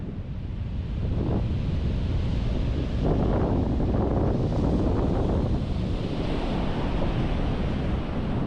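Ocean waves at a beach roll in as a steady broadband wash, heavily buffeted by wind noise on the microphone, with swells building from about one second and again around three seconds, no talk present.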